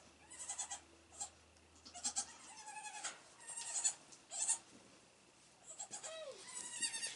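Goats and young kids bleat on a farm, a series of short wavering cries of varied pitch, some near and some farther off, coming in irregular bursts with quiet gaps between.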